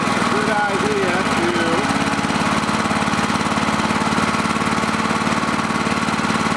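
A dual fuel generator's small engine runs at close range with a steady, rough, pulsing drone, while a voice speaks briefly over it near the start.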